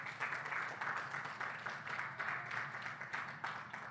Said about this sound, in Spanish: De otro fuerte aplauso a Jesús esta noche.